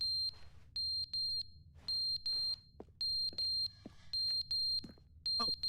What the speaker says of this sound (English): Oh, the fire alarm.